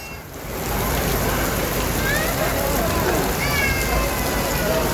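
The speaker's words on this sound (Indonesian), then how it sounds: "Syahdu ya teman-teman di terminal Kampung Rambutan saat ini hujan" Heavy rain pours steadily at the Kampung Rambutan bus terminal, a loud dense hiss that fills the clip, with faint voices and other sounds under it.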